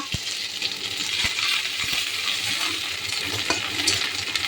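Five-spice, dried and green chillies, bay leaf and ginger paste tempering in hot oil, a loud close sizzle broken by sharp metallic clinks of a spoon against the pan.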